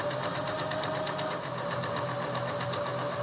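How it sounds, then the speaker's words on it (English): Sewing machine stitching fabric in a reverse stitch to anchor the seam, a steady loud mechanical whir with rapid even needle pulses running throughout, close up and with no talking. "Reverse stitch to anchor the stitching"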